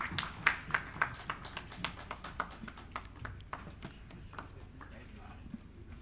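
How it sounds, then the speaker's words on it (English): Audience applause at a wellness awareness summit panel, a run of sharp claps that starts dense and strong, then thins out and fades as the clapping dies down. "Let's have a huge round of applause,"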